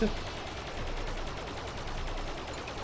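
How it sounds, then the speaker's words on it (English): Buzz Lightyear's green laser fires in the Toy Story 2 video game as a steady, dense stream of rapid shots that stays loud and even throughout. "Green laser powers activate!"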